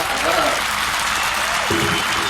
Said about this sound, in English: So clap it up for that.